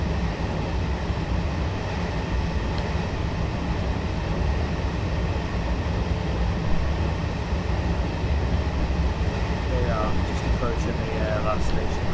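A Northeast Corridor train runs in Train Simulator, giving a continuous low rumble and rolling rail noise at steady loudness, with faint higher squeals near the end.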